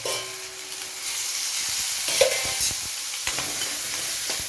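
Onions frying in oil on the stove for a peanut and mint chutney, a soft continuous sizzle with intermittent stirring scrapes and a few light clatters of the spoon.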